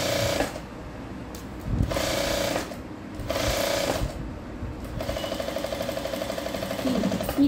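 A sewing machine stitching a blouse, running in short mechanical bursts that stop and restart, then settling into a steady rapid clatter of the needle, close and clear with no talking.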